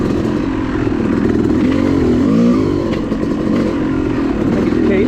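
A Yamaha YZ two-stroke woods dirt bike fitted with a Keihin carburetor and Suzuki needles runs loud and close, its engine droning steadily with a slight rise and fall in revs on a forest trail.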